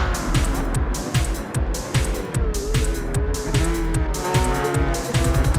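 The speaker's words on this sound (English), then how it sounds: "Whoa, Riza, keep it on the track. Understeer from the SLS" A Mercedes SLS race car's tires squeal as it understeers on track during a Challenge Series race, a shrill scrubbing whine over a loud, pulsing engine roar close by, with no voices.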